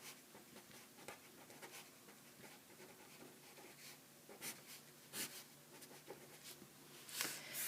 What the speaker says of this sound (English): So I'm going to write the quadratic formula just so we've got it in the shot.